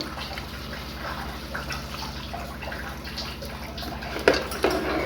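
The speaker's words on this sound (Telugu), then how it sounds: "ఇప్పుడు ఫ్రై అయినాయి కదా, దీంట్లో మనం చింతపండు పులుసు అనేది వేస్తున్నాము" Tamarind juice is poured into a pan of Andhra-style crab curry that has been frying, making a soft continuous splashing and trickling sound with a couple of sharper splashes near the end, over a steady background hum.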